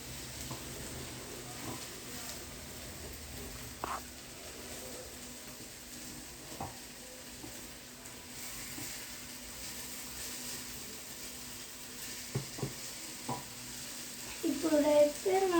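A pan of food frying gently on a gas stove: a soft, steady sizzle with faint stirring clicks and scrapes throughout, low and fairly quiet, rising slightly at the end.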